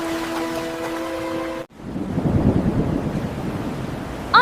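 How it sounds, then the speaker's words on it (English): Music cuts off abruptly, then flood water in a river rushes in with a loud, continuous churning roar that holds steady to the end. "That's flood water!"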